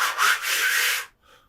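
A breath is inhaled through a hand in a trumpet-practice setting, rough and breathy with uneven, stuttering surges for about a second before stopping, followed by a faint trailing rustle.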